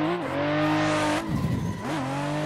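A race car in a drift video game holds a steady, revving engine tone with pitch sweeps, then skids with a short burst of tire squeal in the middle. It is close and loud, with no talking.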